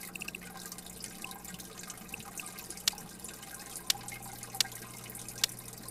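Water runs and drips steadily during a 40% tank water change in the Biotope Aquarium Simulator game, with a few sharper drip splashes standing out over the continuous trickle and no talking.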